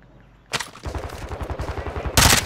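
Gunfire from the Call of Duty Warzone video game: a sharp shot, then a rapid stutter of automatic fire and a loud closing blast, all close and dense with no talking.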